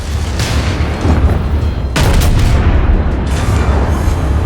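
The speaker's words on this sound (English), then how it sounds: "Scoring a lot of damage on this guy with my secondaries." Battleship secondary guns fire in a naval combat video game, giving loud, close booms over a constant heavy roar, with one especially sharp blast standing out midway.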